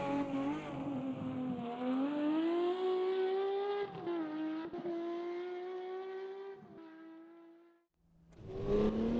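Race car on a hot lap in a racing video game, a steady loud engine whine climbing and holding through the gears, briefly dropping away near the end before revving hard again, with no speech.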